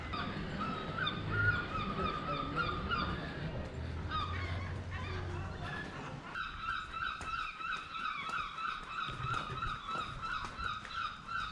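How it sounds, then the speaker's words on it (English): Loud, repeated seagull cries ring out outdoors in Devon and Cornwall, layered over a steady low rumble, with calls overlapping and continuing throughout. "Those seagulls are loud."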